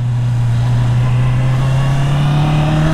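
A 2022 Honda CB650R motorcycle engine accelerating, a strong steady drone rising gradually in pitch as the revs climb, close and loud throughout.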